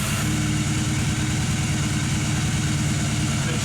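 A Honda CB250 motorcycle idling with the choke on, a steady, close, low throbbing rumble that holds an even, unbroken rhythm throughout with no voices.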